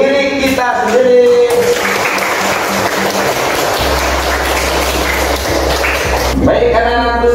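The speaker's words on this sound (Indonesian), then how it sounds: "Kita tepuk tangan untuk diri kita sendiri." A class of students in a school lesson claps for themselves, a dense burst of many hands lasting several seconds, with brief talking just before and after.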